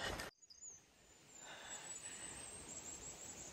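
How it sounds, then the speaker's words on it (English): Birds singing along the Appalachian Trail near Baldpate Mountain, faint high chirps and thin whistled calls in the distance over soft outdoor ambience, preceded by a brief loud rustle at the start, no talking. "Listen to the birds."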